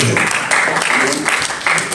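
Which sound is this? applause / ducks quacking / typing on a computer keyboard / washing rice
applause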